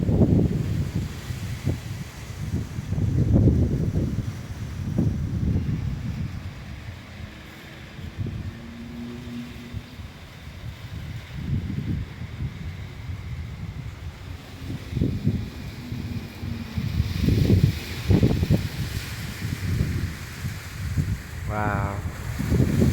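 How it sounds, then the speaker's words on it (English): Strong gusts of wind buffet an outdoor microphone on a very windy day, a continuous rumbling roar that swells and eases in waves, with people talking intermittently under it. "Look at how windy it is today."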